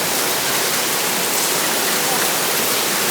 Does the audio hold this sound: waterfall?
yes